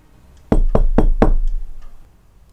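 Four sharp, loud knocks land on a door in a quick, even rhythm and then fade into a short resonant tail in a quiet room.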